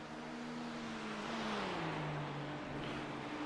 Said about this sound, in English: On throttle, it's got like that buzzy V6